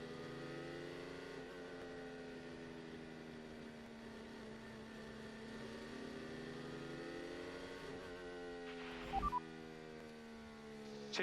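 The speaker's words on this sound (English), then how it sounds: "just enjoy some of the engine sounds" Formula 1 car engines during practice at the Bahrain Grand Prix, a continuous loud high-pitched whine with shifting pitch as cars pass, and a brief sharp burst near the end.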